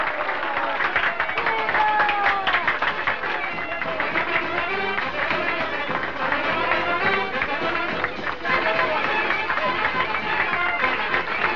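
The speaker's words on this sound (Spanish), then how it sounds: "¡Un aplauso para él! ¡Bravo! ¡Viva el licenciado!" Crowd at a political rally applauding and cheering, a busy, loud mix of clapping and shouting voices that holds steady throughout.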